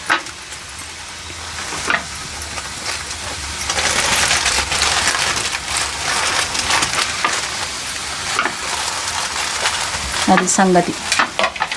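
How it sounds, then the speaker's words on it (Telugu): Vodappalu, a Telangana Bonalu festival sweet, deep fry in hot oil with a loud bubbling sizzle that swells and rattles as pieces go in, alongside intermittent metallic taps and a brief spoken remark near the end. "ఇప్పుడు మనం డీప్ ఫ్రై చేసుకుందాము."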